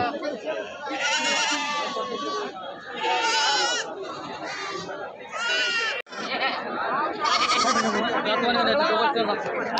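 Beetal goats bleat repeatedly at the busy Lonand goat and sheep market, their loud, wavering cries rising over steady crowd chatter and nearby voices throughout.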